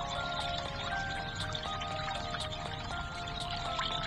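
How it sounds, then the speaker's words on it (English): Water pours and trickles through pipes in the Flow Water 3D Fountain Puzzle video game, making a steady, continuous liquid stream that holds at an even level throughout. "green water coming out of there"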